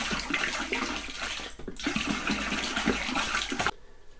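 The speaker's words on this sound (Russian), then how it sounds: "Ну вот все, вода залита." Water poured into distilled spirit for home-made moonshine, a loud continuous splashing gush of liquid that runs steadily and then stops abruptly near the end, leaving quiet.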